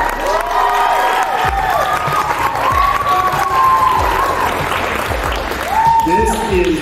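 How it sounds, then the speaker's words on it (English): Clapping and cheering from a crowd at an elementary school gymnasium ribbon-cutting, with children's shouts and whoops rising over the steady applause and voices mixed in. "Let's give another round of applause"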